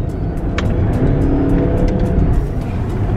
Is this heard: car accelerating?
yes